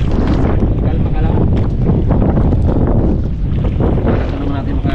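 Strong wind buffets a small fishing boat out at sea, a loud, continuous roar of gusts hitting the microphone over the rush of water.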